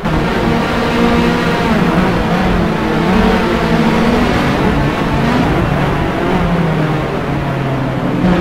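Racing cars lapping the Imola circuit in the simSS3 sim racing game, engines droning steadily and loudly with shifting pitch throughout, a dense continuous roar with no pauses.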